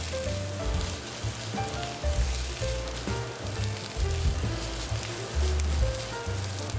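Fried rice sizzles in a hot pan as it is mixed, a steady crackling hiss with repeated low, thumping scrapes of the utensil against the pan, close and continuous with no voices.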